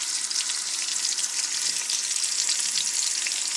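Garlic and green onions frying in a pan for a tuna sauce, a steady close bright sizzle with no talking, holding even for the full few seconds.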